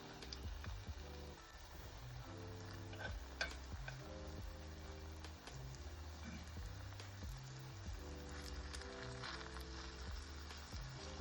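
Banana fritters fry in hot oil in a pot, a soft steady sizzle running under a quiet background of low musical tones.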